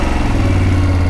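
A BMW motorcycle engine running close and loud, a steady low rumbling idle with no breaks and no voices.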